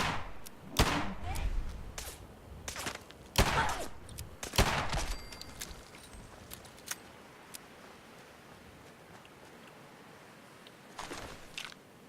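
Scattered gunshots in Fallout 4 crack in bursts, some close and sharp, others lighter, then fade to a quiet lull with a final distant shot.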